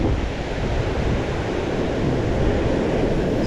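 Ocean surf breaking on rocks at Kei Mouth, a steady dense wash of broadband water noise mixed with wind buffeting the microphone.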